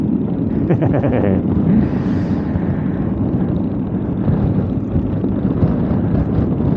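Strong wind buffeting the microphone while riding a motorcycle along the southern coastal road, a loud constant low rumble and roar with engine drone beneath, no speech.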